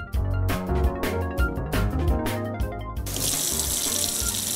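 Tap water runs into a sink while large shrimp are rinsed under it, a steady close splashing that becomes a brighter, louder hiss partway through, with no voices.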